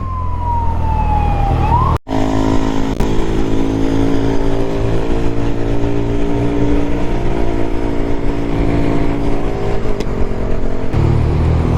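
A motorcycle riding through the slick streets of Manhattan in New York City, its steady engine drone carried under loud wailing emergency sirens sweeping nearby in dense traffic, with a brief cut early on.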